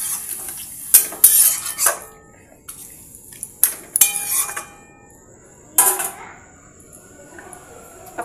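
Chicken curry stirred in a pot after water is added, with a handful of sharp metal spoon clanks against the pot over a quiet sizzle, close and irregular, separated by near silence.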